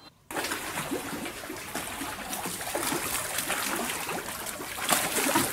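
Water trickles steadily through a stream in a large traditional-style rural garden with fish ponds, a continuous close, bright babbling flow with no voices.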